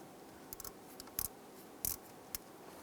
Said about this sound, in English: Now I want to go ahead and snug down all of our bolts.